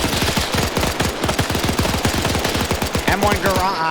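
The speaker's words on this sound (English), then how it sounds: "1919A6 firing first" A Browning M1919A6 machine gun in a Vietnam-era tactical shooter match fires a long continuous burst of rapid, evenly spaced shots up close, with a brief voice near the end.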